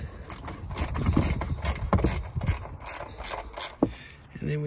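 A ratchet undoes a 10 mm bolt during an oil and filter service on a Ford PowerShift transmission, giving several close, quick clicking bursts with sharp metallic ticks.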